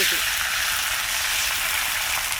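Thick dosa batter sizzles loudly and steadily on a hot, overheated griddle, a close, continuous hiss of frying with no break.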